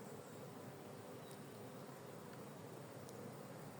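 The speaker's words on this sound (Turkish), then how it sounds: "Bu e, normal işçi arı" A steady, dense buzzing of many honeybees at a hive, continuous and fairly loud, droning together at close range.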